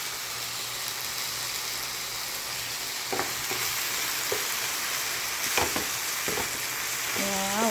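Food frying in a pan gives a steady, close sizzle throughout, with a few brief clatters of utensils or the pan, and a low steady hum beneath.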